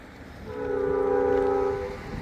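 A train horn sounds in a long, steady blast that swells and fades, with rumbling rail noise underneath.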